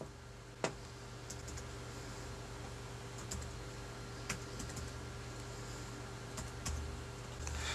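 Soft, quiet keystrokes on a computer keyboard as a Wi-Fi password is entered, scattered taps with a few sharper clicks over a steady low room hum, no voices.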